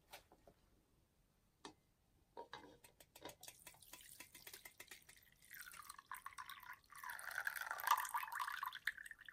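Boiled parsley water is strained, starting with scattered faint drips and ticks, then a thin stream of liquid pouring and trickling steadily, growing louder toward the end in a quiet kitchen.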